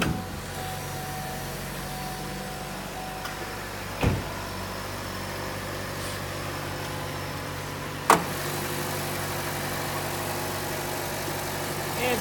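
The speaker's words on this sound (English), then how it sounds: "we'll start the engine and we'll give you a look under the hood." 2016 Buick Encore with an EcoTec 1.4 liter 4-cylinder engine idling steadily, a continuous low hum with two sharp clicks and no talk.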